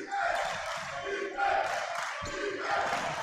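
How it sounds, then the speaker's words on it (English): Basketball crowd at a men's pro-am final cheering and roaring continuously, with loud swells and an excited commentator voice running over the din. "And the crowd goes wild as well."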